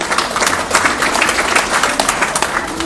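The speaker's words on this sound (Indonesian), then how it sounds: "Tepuk tangan untuk yang membuat tema ini." An audience at an Islamic lecture for the Prophet's birthday claps together in steady, dense applause, moderately loud and continuous for the whole stretch.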